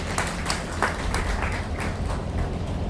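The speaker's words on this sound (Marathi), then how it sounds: "आपलं दैदिप्यमान सर्वांची त्यांना साथ जोरदार टाळ्या झाल्या पाहिजेत" Steady applause from an audience at a Marathi literary award ceremony in Pandharpur, dense and continuous clapping filling the whole moment with no voices over it.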